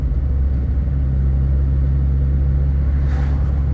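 Peugeot 106 with a 1.1 engine pulling hard in second gear, a loud, close, steady low rumble from inside the car with no talk.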